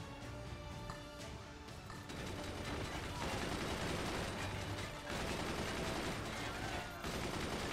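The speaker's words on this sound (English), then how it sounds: "I don't like the sounds of gunfire." Gunfire from the video game Forts rattles in dense, continuous bursts of rapid shots and crashes, fairly quiet overall, with brief dips between volleys.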